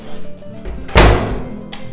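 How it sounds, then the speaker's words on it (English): A door being shut inside an apartment of a detached finca in Arico, Tenerife, closing with one solid, loud thunk that rings out briefly after soft room noise. "if you shut this door"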